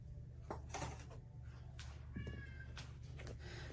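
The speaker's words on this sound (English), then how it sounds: "Hopefully you don't hear my kitty cat crying outside my door." A pet cat meows and cries from behind a closed door, faint and a few rooms' worth of distance away, in short repeated calls over a steady low household hum.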